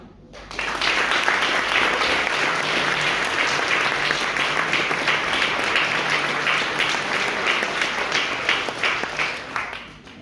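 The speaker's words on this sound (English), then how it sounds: "Like everyone to give a warm round of applause for Salvi." Sustained applause from a sizable comedy show audience, dense steady clapping for about ten seconds before tapering off at the end.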